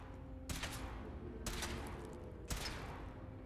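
Weapon fire from a power armor suit being tested in the video game Fallout 4, a sustained rattling volley with three sharp bursts recurring about once a second over a steady rumble, fairly quiet overall.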